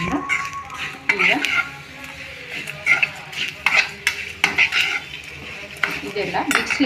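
A spice mixture with tamarind and jaggery is stirred in a pan, with repeated scraping and clinking of a spoon against metal in uneven bursts over a soft sizzle, close and moderately loud.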